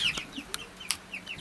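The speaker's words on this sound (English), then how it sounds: "Our land is being taken over by baby chickens." Baby chickens clucking and peeping in short, scattered calls, close by, with no voices.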